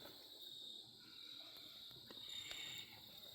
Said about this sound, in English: we hear crickets